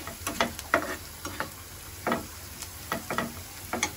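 Onions frying slowly in oil for prawn malaikari make a continuous soft sizzle, with intermittent scraping stirs landing every half second or so, close by and moderately loud.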